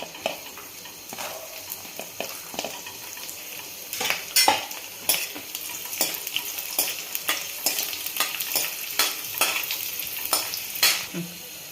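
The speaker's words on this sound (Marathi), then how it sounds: "बदाम ते पण फ्राय करून घ्यायचं आणि पिस्ता पण टाकून घेते लगेच" Almonds and pistachios frying in ghee in a metal pan, a soft steady sizzle broken by frequent sharp clinks and scrapes of a spoon stirring, close and without speech.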